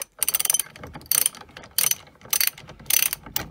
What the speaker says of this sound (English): I just need to ratchet that up, which I'm going to do now